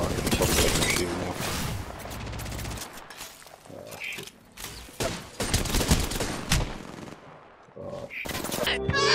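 Gunfire in Apex Legends, with repeated loud bursts of automatic fire and single shots broken by short pauses and some shattering impacts, with voices now and then.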